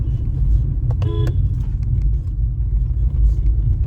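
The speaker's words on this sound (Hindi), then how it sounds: "यहाँ पे हॉन्क सुनाई दे दिया था" A single short horn honk rises over the steady engine rumble of a Mahindra XUV300 climbing a narrow mountain road with a cliff on one side and a drop on the other.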